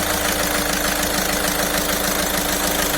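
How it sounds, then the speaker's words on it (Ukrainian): A Volkswagen Caddy engine idles loudly and close by after an oil system flush, a steady rumbling chug with a constant hum and even rhythmic knocking throughout. "Завели двигуна"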